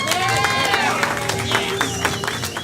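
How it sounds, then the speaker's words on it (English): An audience applauds and cheers for a volunteer called up on stage at a live main event show; steady clapping and crowd noise run throughout, mixed with music and some voices. "Clap for him, everyone."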